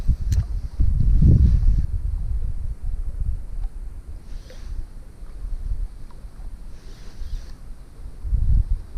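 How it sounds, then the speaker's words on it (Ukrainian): Cold wind gusts buffet the microphone beside a fishing pond in low rumbling bursts, strongest near the start and again at the end, with no one speaking. "Холодний вітер."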